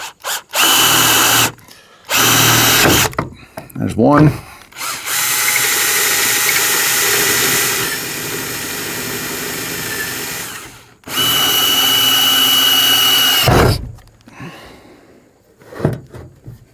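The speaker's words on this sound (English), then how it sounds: "And I'm going to drill." A power drill whirs loudly in several long bursts with brief pauses between, close by, with downward force applied while drilling into a Toyota Sienna to mount an awning; someone speaks briefly once.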